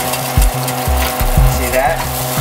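Eggs fry in a hot pan while they are cooked the Asian way. The sizzle sits under a low steady hum, and a few sharp utensil knocks and scrapes land near the start and middle of the clip.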